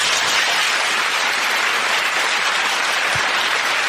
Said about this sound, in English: I'm going to push this little button and see if it does like a little applause.